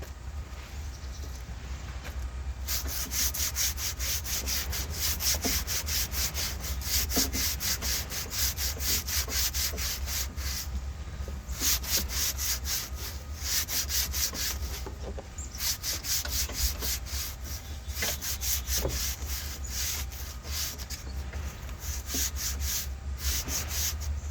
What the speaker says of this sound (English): These are just old pads from out of my sanding kit